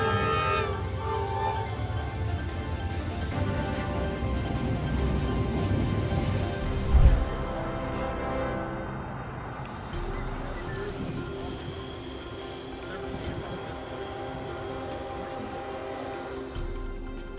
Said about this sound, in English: the fawn is struck by an oncoming train